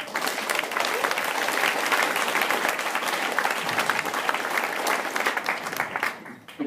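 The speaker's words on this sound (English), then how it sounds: "Yes, let's clap, please." Applause from a news reunion audience, a steady, dense clapping from many hands that carries on evenly before cutting off near the end.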